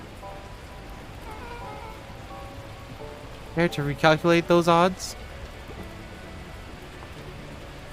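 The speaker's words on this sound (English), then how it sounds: "the heavens opened up, unleashing torrential rain" Steady heavy rain in the video game Beacon Pines hisses throughout, with a voice speaking briefly over it midway.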